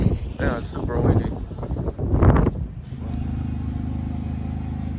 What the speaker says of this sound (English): Yeah, it's super windy.